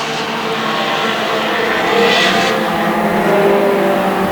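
Junior sedan race cars howl around Bunbury Speedway on the closing lap, a loud continuous engine roar that swells as the pack passes near, with no talk over it.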